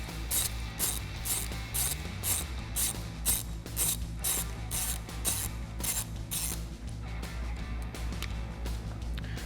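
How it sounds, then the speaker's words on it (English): An 11mm socket ratchet clicks in a fast, steady run of sharp pawl ticks while loosening the nut on the power post of a 2021-2022 F-150 fitted with a front bumper, close and clear with no talk. "So now we're going to take an 11mm socket to loosen the nut on our power post."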